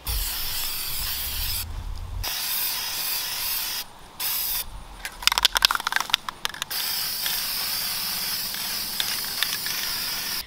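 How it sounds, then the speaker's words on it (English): Steady hiss of spray paint from an aerosol can onto a lantern, running in long bursts with short pauses and a few clicks and rattles midway. "So Chad has expertly spray painted the lantern."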